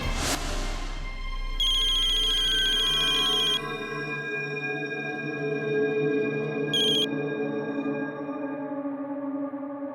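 A telephone ringtone chimes in bursts of electronic tones over a lingering musical hum, with a short repeat of the ring a few seconds later.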